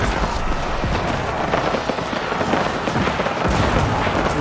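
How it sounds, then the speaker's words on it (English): Cannons boom repeatedly in a large Age of Empires 4 battle, a dense, continuous barrage of blasts and rumbling impacts layered together at steady loudness without a break. "Just the sounds and the sights of the cannons going off and the men yelling."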